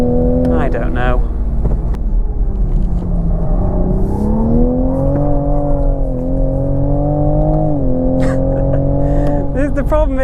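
A 2020 Toyota Supra's engine drones steadily from inside the car on a race track, its pitch rising and dipping through gear changes and revs, with someone talking over it.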